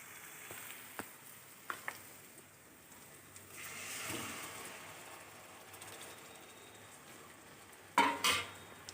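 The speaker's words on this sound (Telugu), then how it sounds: "టమాటా వేసి కలపెడదాం." Tomatoes stirred into onions frying in oil in a pan for egg curry, a soft low sizzle with scattered utensil taps and a louder clatter of spoon against pan near the end, no voices.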